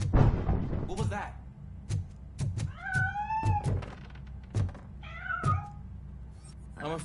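Cat meowing inside the RoboCop: Rogue City video game, several drawn-out meows sliding in pitch, broken up by sharp thumps and clunks, with game sounds underneath.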